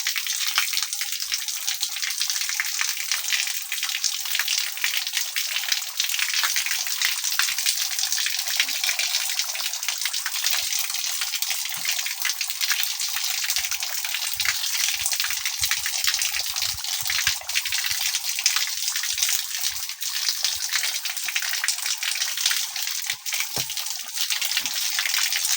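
Thin, weak water flow hisses steadily while a pig pen is hosed and cleaned, a constant gushing spray with faint splashes and no talk.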